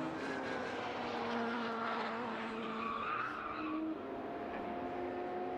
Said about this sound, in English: Did hear a squeal of tyres in the background